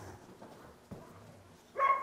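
A collie dog outdoors in a driveway stays quiet at first, with faint low sounds, then gives one short, fairly distinct bark near the end.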